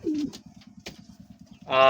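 Domestic pigeons in a home loft coo in soft, low, rhythmic pulses close by, with a louder burst of sound at the end.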